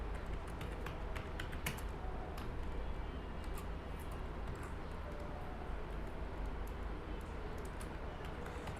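Password keys tapped on a computer keyboard in quick, irregular clicks, faint and close, over a steady low background hum with no voices.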